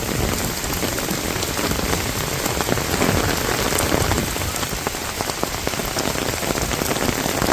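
Steady rain pours down in a village on a cold, windy day, a dense continuous hiss with scattered drops pattering close on surfaces throughout, no voices.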